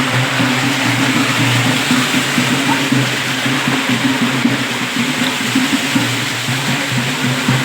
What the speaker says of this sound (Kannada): ನೀರು ಎಷ್ಟು ಚೆನ್ನಾಗಿ ಬೀಳ್ತಿದೆ